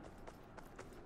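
Rhythmic hoofbeats of a galloping horse in the video game Conqueror's Blade, four quick, faint thuds evenly spaced over a soft background.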